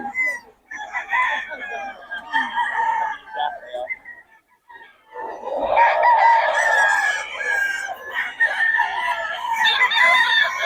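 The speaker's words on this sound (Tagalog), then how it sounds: "Mga manok ni Boss Ray" Roosters crow loudly, several long calls overlapping at close range, with hens clucking and someone talking in the background.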